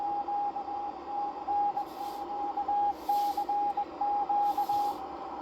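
A Morse code CW signal comes through a ham radio receiver with the audio peak filter on, a clean steady tone keyed in dots and dashes above a quiet hiss, with faint bursts of static.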